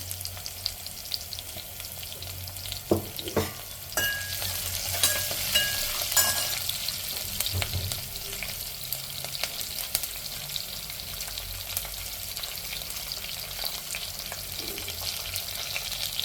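Sabudana vada ingredients, chillies and salt among them, fry steadily in a pan with a continuous hiss and sizzle, punctuated now and then by light stirring scrapes. No one speaks.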